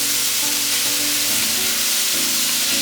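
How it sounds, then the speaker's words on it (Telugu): Chopped chillies and desi tomatoes fry and sizzle in a pan over a high flame as they are stirred for paneer butter masala, with a steady close hiss and scraping stirs throughout. "ఇప్పుడు ఫ్లేమ్ హైలో పెట్టుకొని 1 నిమిషం కలుపుకుందాం మనం అంతా."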